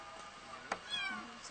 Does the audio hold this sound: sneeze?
no